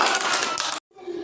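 Children clapping at a storytelling session, a burst of quick claps that cuts off abruptly, followed by quieter room sound.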